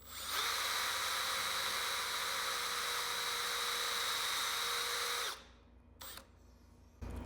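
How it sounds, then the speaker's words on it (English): A power drill runs loud and steady for about five seconds boring a shallow hole in a wooden chair stretcher, then stops abruptly, followed by a couple of short clicks and handling noises. "Put that in there and we just drill away."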